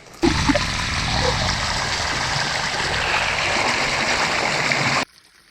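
Murky sewage water pours steadily into a stream near the village of Barvinkove in Sumy region, a loud, continuous rushing flow that starts abruptly and cuts off after about five seconds.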